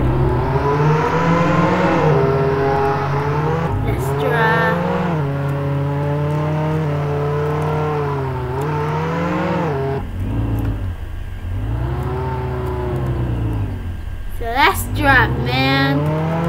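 A car engine revs and drones steadily while driving in the Roblox Jailbreak video game, its pitch rising and falling with acceleration and gear shifts, loud and continuous throughout.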